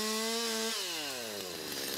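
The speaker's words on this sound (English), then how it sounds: "I climb to the top with chainsaws and piece them down" A chainsaw used in tree removal work runs at a steady high whine, its pitch dropping and sliding partway through as the engine loads and eases off. It sounds close and loud, with no voices.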